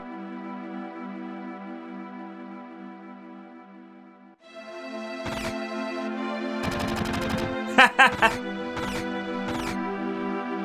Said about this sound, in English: The gun sounds are awesome